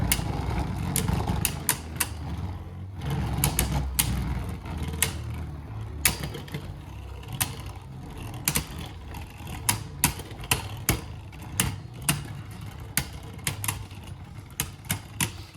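Beyblade Burst tops from a Nebula Battle Set spin in a battle arena, giving a continuous whirring rattle broken by sharp, repeated clacks as they collide. The sound is close and steady.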